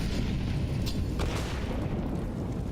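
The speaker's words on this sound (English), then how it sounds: "Dodging the nades that come from over top." Grenade blasts in Counter-Strike during a BLAST Premier esports match, a dense rumbling wash of booms with a couple of sharper bursts, loud and continuous throughout.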